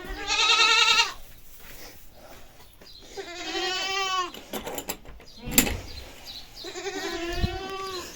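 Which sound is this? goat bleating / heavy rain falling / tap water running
goat bleating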